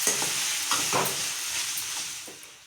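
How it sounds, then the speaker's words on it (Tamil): Egg puff filling sautéing in hot oil in a pan over low heat, a steady close sizzle with a few scraping stirs breaking through, and no talking. "இப்போ இதையே நல்லா எண்ணெயில் வதைக்கலாம் அடி பிடிக்காமல் கொஞ்சம் சிம்லேயே வச்சு வதக்கணும்"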